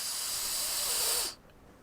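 A blast of compressed air hisses hard and steady as it blows water through drowned outboard engine parts, then cuts off sharply after about a second, leaving quiet.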